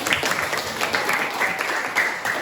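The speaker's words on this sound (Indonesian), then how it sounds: "Tepuk tangan untuk Yoga." Classroom applause from students, a short burst of brisk, fairly close clapping with uneven rhythm, lasting a couple of seconds.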